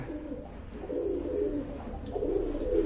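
Pigeons coo steadily in a loft of prized racing birds, a soft, low, rolling call repeating close by with no talk over it.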